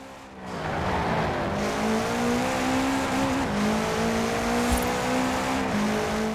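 A 2013 Subaru BRZ race car in Forza Horizon 4 holds a loud, steady engine drone with shifting pitch, rising and dipping through gear changes, close and continuous.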